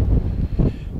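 Wind gusts on Mount Rainier, a brief, close rumbling buffet against the microphone that swells twice in quick succession.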